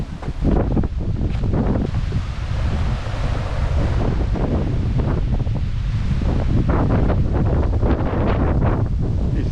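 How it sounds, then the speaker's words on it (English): Strong wind buffeting the microphone in loud, rumbling gusts, with a continuous roar like surf in the background. "It's a bit windy now,"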